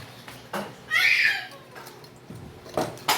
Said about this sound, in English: please excuse the kids in the background